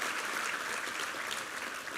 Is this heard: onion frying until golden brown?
no